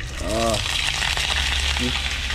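Steady oil sizzle and crackle of mackerel scad (matambaka) frying up close, with a couple of brief voice fragments over it.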